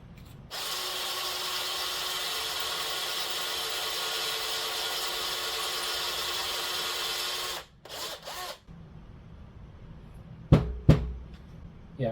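A small 7/64 drill bit bores into a riding lawnmower's brake bracket, giving a steady, loud, high whine for about seven seconds, then it stops, with a few short clunks and taps afterward.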